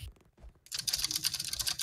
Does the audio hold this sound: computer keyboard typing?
yes